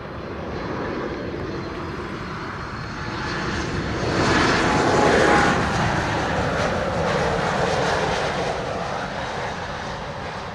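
Airplane on approach to runway 07 at Montego Bay airport in Jamaica, a broad jet engine roar that swells toward the middle as it passes closer, then stays loud and rumbling as it continues, no voices.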